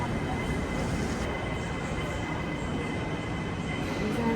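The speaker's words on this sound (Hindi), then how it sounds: "इमिग्रेशन तक पहुंचने के लिए देयर इज अ ट्रेन" An airport shuttle train at Hong Kong airport carries passengers toward immigration, giving a steady rumbling roar of wheels and carriage with faint hiss, fairly quiet and continuous, with voices murmuring over it.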